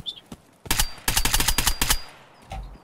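Automatic gunfire in the video game Escape from Tarkov, a close burst of rapid rattling shots followed by a few separated single cracks and a later report.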